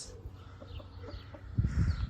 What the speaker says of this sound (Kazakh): Тауықтардың бәрін жай жібердім.